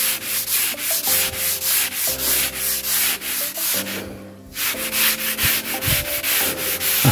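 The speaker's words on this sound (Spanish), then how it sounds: "Esto es una lija de 100 de esponja que la consiguen en Home Depot" Sanding sponge, 100-grit, rubbed back and forth along the grain of a wood floor to repair marks, giving steady rhythmic scratchy strokes about seven per second-ish in close, loud repetition, with a brief pause midway.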